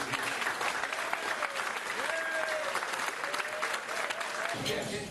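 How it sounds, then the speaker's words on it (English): A crowd at a Knights of Columbus Council 750 event in Oxnard gives the Knights a round of applause. The clapping is dense and continuous throughout, with voices talking faintly underneath. "So let's just give the Knights of Columbus a round of applause."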